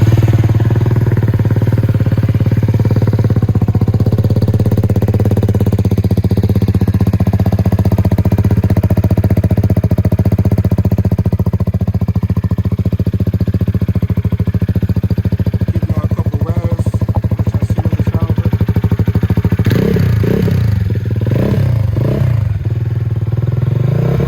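An XMT 250 motorcycle with an Akrapovic exhaust runs loud and close, a steady, throaty idle with a rapid pulsing beat, then a few sharp throttle blips near the end.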